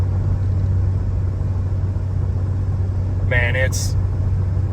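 Pickup truck engine droning low and steady while towing on a flat road, lugging as it struggles to hold 9th gear at about 1,800 RPM, a constant rumble throughout; someone speaks briefly over it.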